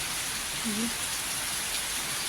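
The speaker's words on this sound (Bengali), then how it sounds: "অঝোর ধারায় বৃষ্টি পড়ে যাচ্ছে, এখনও অবধি এত জোরেই পড়ছে।" Heavy rain pours down in a steady, unbroken hiss that fills the whole stretch, with no pauses and only a brief faint tone partway through.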